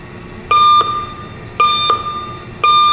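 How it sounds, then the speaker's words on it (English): A Broaster VF-3 ventless countertop fryer sounds three evenly spaced, loud electronic tonal beeps at the end of its cook cycle, with a low hum in the gaps between them. "then it'll beep at us to let us know it's safe to pull the basket out."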